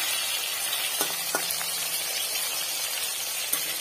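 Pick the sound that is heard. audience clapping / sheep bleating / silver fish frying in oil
silver fish frying in oil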